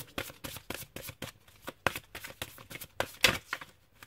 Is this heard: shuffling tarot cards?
yes